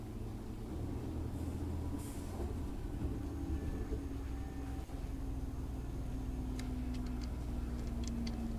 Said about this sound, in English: Is that just my train making sounds